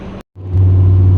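A Chevrolet C10 pickup with an LS engine cruising down the road, a steady low engine drone and road rumble that drops out briefly, then returns and swells to a louder, constant hum.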